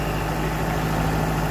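An old tractor fitted with a 585 engine runs at a steady, loud, low idle with a constant rumble, close by and without voices.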